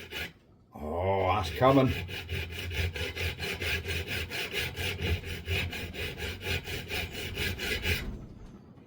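A flat file working pitting off the igniter of an old stationary engine, steady rhythmic rasping strokes close up for about seven seconds, with a brief spoken remark at the start.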